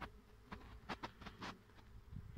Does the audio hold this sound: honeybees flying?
yes